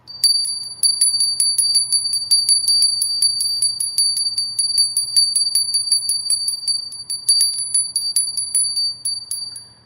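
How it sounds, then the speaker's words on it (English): A small bell rings in a rapid, continuous tinkling to clear energy. Its bright, high metallic tones repeat steadily for several seconds close to the microphone, then taper off at the end. "here's our little bell"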